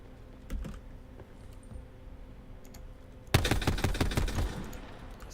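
A sudden burst of rapid gunfire in Call of Duty Black Ops 4 erupts partway through, loud and dense, after a quieter stretch with faint clicks.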